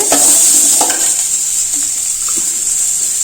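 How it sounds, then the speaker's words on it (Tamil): Onions sautéing in a pan for a bitter gourd curry, with a steady close sizzle and a few scraping stirs near the start, no talking. "வெங்காயம் வதங்கிடுச்சுங்க ஓரளவுக்கு."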